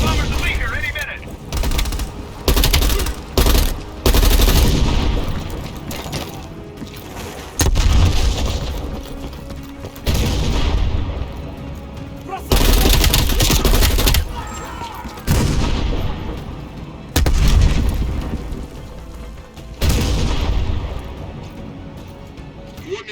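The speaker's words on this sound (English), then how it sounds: "Bombing strike imminent." A bombing strike in the Black Ops Cold War campaign brings repeated loud booming explosions and bursts of gunfire in heavy, rumbling waves, with voices mixed in between the blasts.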